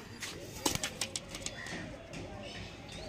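An adult male pigeon coos in a few soft, low pulses near the start, close by, with other birds and some background voices mixed in.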